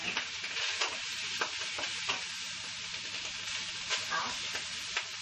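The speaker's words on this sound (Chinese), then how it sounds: "可以整粒花椒下去爆香" Whole Sichuan peppercorns crackling in hot oil alongside scallions and soy sauce while cuttlefish cooks, a soft steady sizzle with small pops, fairly quiet and close.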